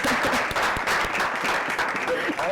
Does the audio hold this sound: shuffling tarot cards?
no